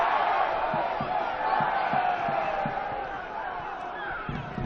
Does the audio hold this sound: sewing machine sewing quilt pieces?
no